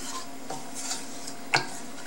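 A spoon stirs curry paste into coconut milk in a pot, giving soft rubbing and scraping strokes with a few light clinks against the metal, including one sharper tap, all heard alone.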